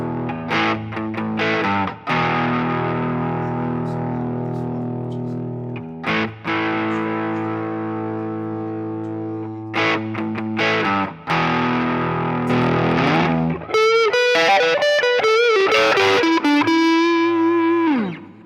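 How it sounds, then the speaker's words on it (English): Electric guitar chords and riffs through a Line 6 Helix emulating a Tube Screamer overdrive, a warm, driven tone, loud and sustained, ending with a bright lead phrase and a held note. "So this one is emulating a tube screamer."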